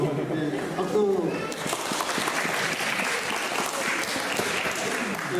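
A church congregation at a Korean Christmas service in Berlin breaks into warm, sustained clapping, a dense patter of many hands that carries on evenly after a few spoken words at the start.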